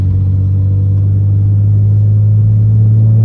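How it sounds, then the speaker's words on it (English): A BMW 335i with a big single turbo and anti-lag, running 26 psi, pulls in third gear on a manual, giving a loud, steady low engine drone heard from inside the car. "Alright, third gear pull."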